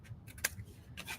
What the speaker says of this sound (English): I'm just going to position my scissors